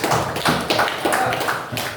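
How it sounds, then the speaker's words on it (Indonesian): Students in a classroom clap their hands together in a short burst of roughly rhythmic, close claps, several distinct beats of many hands over a couple of seconds. "Tepuk tangan."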